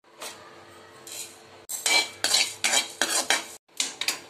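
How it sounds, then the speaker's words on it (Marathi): Coriander seeds and cumin dry roasting in a pan while a spoon stirs them, bursts of scraping and rattling that come in a quick repeated rhythm, close and clear with no speech. "आता याच्यातच थोडेसे धने भाजून घ्यायचे आणि जिरा भाजून घ्यायचं।"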